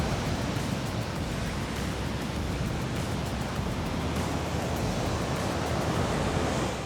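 Big-wave surf breaking at a large ocean surf spot, a steady loud roar of crashing water and wind-blown wash filling the whole stretch with no pauses.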